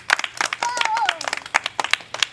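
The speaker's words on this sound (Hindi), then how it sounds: "बच्चों ताली" Children in a classroom clap during a village Republic Day skit, a short burst of sharp, uneven claps with a voice speaking over them.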